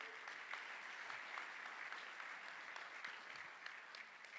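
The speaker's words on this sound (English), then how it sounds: "Let's give them both a nice round of applause" Steady applause from the audience at a charity rescue gala auction, a continuous bed of many hands clapping, fairly distant and even in level from start to finish.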